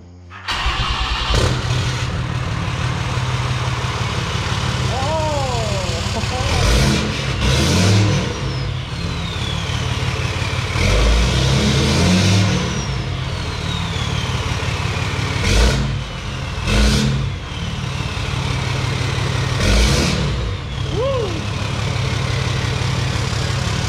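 A Cummins 6.7 diesel pickup with a 5-inch straight pipe and DEF delete starts and idles with a deep, loud rumble, revving up several times in short bursts before settling back to a low idle.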